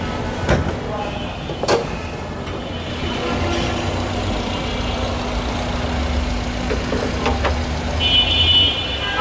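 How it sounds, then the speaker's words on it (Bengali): A 2004 Toyota Corolla with a 1500cc VVT engine idles with a steady, low hum under the open hood, along with a few sharp clicks and knocks and a voice nearby. "এ হচ্ছে গাড়ির ইঞ্জিন"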